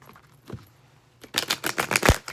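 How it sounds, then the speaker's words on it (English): Tarot cards shuffled by hand, a quiet stretch giving way to a dense run of crisp, rapid papery riffles and taps close up for the last second. "let's do some shuffling now."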